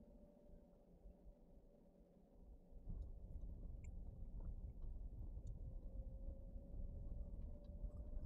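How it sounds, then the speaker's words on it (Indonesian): Second-generation Toyota Avanza with full cabin sound deadening, rolling at around 40 km/h; muffled tire rumble inside the car rises suddenly as the tires move onto rough asphalt, then stays as a steady, subdued roar. "Ini kita masuk ke aspal kasar."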